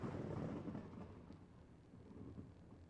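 Low, sustained thunder rumble in a game storm, loudest at the start and settling into a steady roll with a rainy wash on top, no voices.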